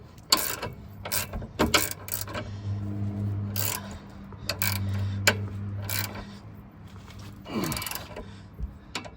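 Ratcheting wrench tightening coilover suspension hardware on a car with a clunk fault: close, loud bursts of rapid clicking in several spaced runs, with metallic clanks and a low mechanical hum between them.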